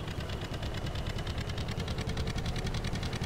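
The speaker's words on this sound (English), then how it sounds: "I love the sound of this tractor." A steady, rumbling tractor engine in Farming Simulator 17 idles continuously with a low throbbing pulse and faint rattling, close and fairly loud, with no voices.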